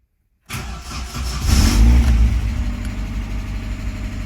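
A Vauxhall Cavalier Mk1 with a C20XE engine cranks and fires up, revving briefly before settling into a steady, close idle with no talk over it.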